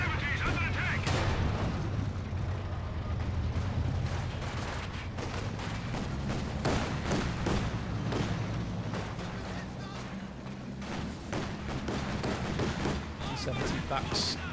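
A ZiS anti-tank gun in a Company of Heroes 2 battle fires amid a dense wall of continuous gunfire and explosions, sharp cracks and booms standing out over sustained battlefield noise, with commentary talk running underneath.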